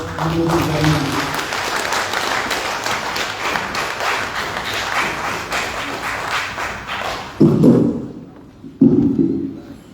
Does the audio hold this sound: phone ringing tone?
no